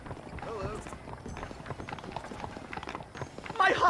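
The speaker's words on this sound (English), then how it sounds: "bring the horses around front" Hooves of horses in the video game Red Dead Redemption, a rapid clip-clop of hoofbeats that runs steadily through the clip, with voices speaking over it.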